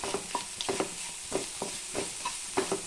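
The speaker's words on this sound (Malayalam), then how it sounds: "അരപ്പിൻ്റെ പച്ചമണമൊക്കെ ഒന്ന് നന്നായിട്ട് മാറുന്നത് വരെ നമുക്ക് അരപ്പ് ഒന്ന് ഇളക്കി കൊടുക്കാം" Banana flower stir-fry paste being stirred in a pan, soft rhythmic scraping strokes over a faint sizzle, close and fairly quiet, with no talk.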